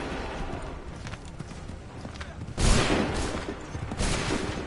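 Musket volleys crack out in an Assassin's Creed 3 Remastered battle: a loud, sudden massed blast midway and a second burst near the end, over a busy background of battlefield noise and faint voices.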